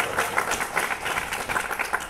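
Audience at a seminar on HIV and AIDS clapping together, a dense steady patter of hands at moderate volume, without talk over it.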